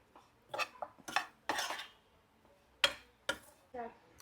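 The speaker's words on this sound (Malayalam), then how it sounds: "ഇങ്ങോട്ട് ജസ്റ്റ് ഒന്നുകൂടി ഇളക്കി കൊടുക്കുവാണേ" Uppumavu being stirred in a pan in an Anganwadi-style kitchen, the lid just lifted off: a few sharp metallic scrapes and clinks of spoon against pan in short bursts, close and fairly loud, with quiet pauses between.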